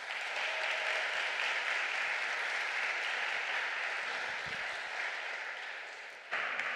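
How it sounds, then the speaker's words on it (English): Sustained audience applause for a panelist at a Berlin conference panel on surveillance, a dense, steady wash of many hands clapping at even loudness throughout. "So also an applause to Manu, please"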